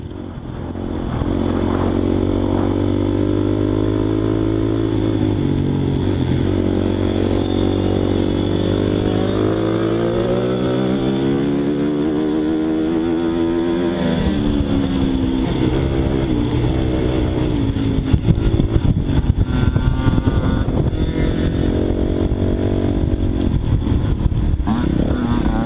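Racing motorcycle at the 2024 NMA Eddieville Spring Opener taking a full lap on a circle track, its engine loud and close throughout, rising and falling through gear changes and revs, then turning rougher and more uneven in the second half.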